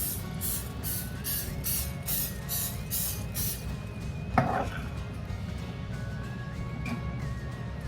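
Quick bursts of aerosol cooking spray hiss in a rapid series onto a muffin pan, followed by a single clatter, with a low hum in the background.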